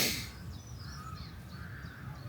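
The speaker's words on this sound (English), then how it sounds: "You probably hear the pigeons and the rooks and the other birds all twittering away." A few harsh caws from nearby rooks sound over a low background rumble at a campsite at Durdle Door Holiday Park in the morning.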